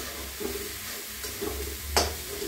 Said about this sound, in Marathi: आधी चांगलं हलवून घ्यायचं, गॅस कमी करून